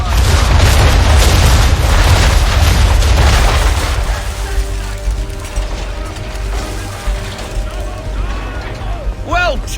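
Naval cannon fire from a ship's guns shooting round shot in Assassin's Creed III, a loud, heavy boom that rolls out and fades into a rumbling tail with mechanical creaks, under a game music bed.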